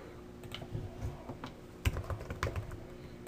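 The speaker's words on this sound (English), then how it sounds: "I'm going to type Mercer." Keys clack on a computer keyboard while a short word is typed into 3D text software, a brisk run of light close taps with a couple of firmer strokes.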